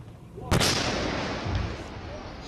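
A single loud blast hits suddenly in a war zone, followed by a long rumbling roar that slowly fades, with faint voices in the background.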